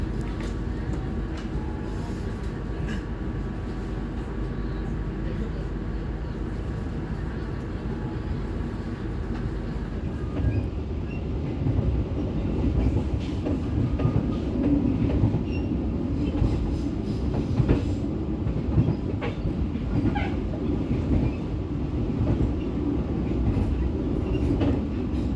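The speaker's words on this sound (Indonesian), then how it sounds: "Pada pukul 19:43 kereta api GBMS telah diberangkatkan dari stasiun Purwokerto." Gaya Baru Malam Selatan passenger train running on rails at night: a steady low rumble with rhythmic wheel clatter and faint metallic squeals, heard from inside the carriage and growing louder partway through, with no talking.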